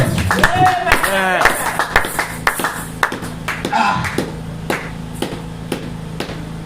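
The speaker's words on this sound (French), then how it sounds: "Acclamez d'abord très fort pour le Seigneur Jésus-Christ." A church congregation claps loudly and steadily for the Lord in rhythmic, evenly spaced beats. A voice speaks and calls out over the clapping early on.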